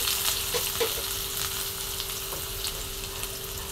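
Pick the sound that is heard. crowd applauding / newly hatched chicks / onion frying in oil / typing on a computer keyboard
onion frying in oil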